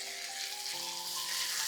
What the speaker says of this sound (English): We've got a good sizzle on now.